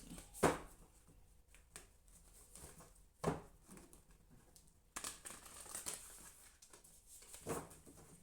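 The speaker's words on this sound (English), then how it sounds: "One more shuffle." A deck of cards shuffled by hand nearby, several short papery riffling bursts separated by quieter pauses, with no talking.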